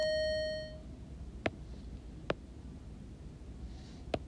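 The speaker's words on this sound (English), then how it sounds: "Sorry about the bell again." School bell in a classroom during an algebra lesson, a sustained electronic ring that cuts off after about half a second, followed by quiet room tone with a few sharp knocks.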